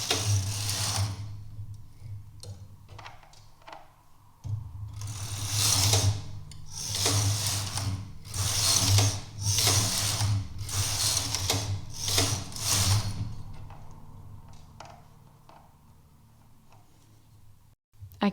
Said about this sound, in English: So I'll bring the other half of needles in upper working position. And I will knit again 7 rows.